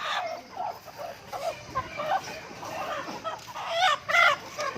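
Native chickens cluck and call in short bursts at a poultry market on the border, with several birds making irregular, close clucks amid a busy background murmur.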